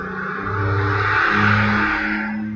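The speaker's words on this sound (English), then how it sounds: "there's like all the cars and trucks in the world decided to pass through my street" Heavy traffic of cars and trucks passing along a residential street, a loud swelling engine rumble that builds and fades over a couple of seconds as a vehicle goes by.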